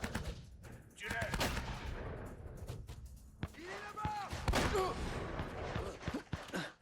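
Video game gunfire from Uncharted: bursts of rapid shots and single sharp cracks fired in a firefight, loud and repeated through the clip, with shouted voices mixed in.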